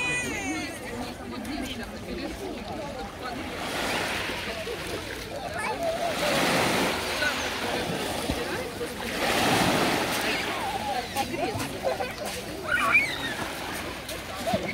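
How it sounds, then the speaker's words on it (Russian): Small sea waves washing onto a pebble beach at Krasnaya Talka in Gelendzhik, soft rolling swells rising and falling every few seconds beneath nearby crowd chatter and children playing. "Вот такой совсем небольшой накат волны."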